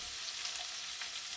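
Almonds stirred in butter and garlic in a hot pan, giving a soft, continuous sizzle and crackle close up with no voices.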